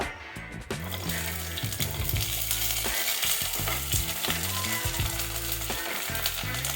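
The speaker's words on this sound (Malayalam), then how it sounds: "എണ്ണ ചൂടായി, അതിലേക്ക് വെണ്ടക്ക," Okra sizzles steadily in hot coconut oil for a Kerala-style curry, with a loud, continuous fry punctuated by the clatter of stirring.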